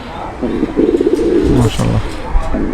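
Pakistani teddy pigeons coo in a close, loud burst of throaty, rolling calls that repeat several times.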